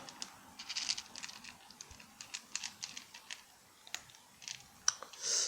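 A stray cat eats food outdoors, close by and faint, with a steady run of small wet chewing and crunching clicks and a few louder snaps, no talking over it.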